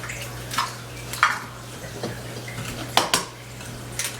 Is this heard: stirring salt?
yes